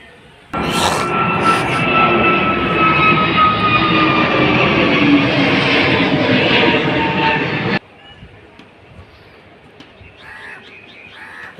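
An airplane near Mumbai airport roars loudly for about seven seconds, a broad engine rumble with whining tones that cuts off abruptly, leaving quiet background noise.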